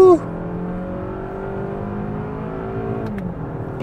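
A 2024 Lexus ES 250 AWD engine drones steadily at high revs toward the red line during a test drive, with a brief shift-like dip near the end, heard from inside the cabin.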